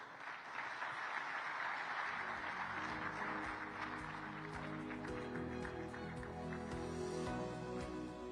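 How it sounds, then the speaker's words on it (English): An audience at the Commonwealth Summit in Kigali bursts into applause, a dense, sustained clapping that swells after a brief start, while brief musical tones sound over it. "Please, round of applause."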